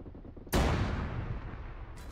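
A single heavy cannon blast from an armored vehicle's main gun in Arma 3 booms loudly and up close, then rolls into a long fading rumble, with a faint second report starting at the end.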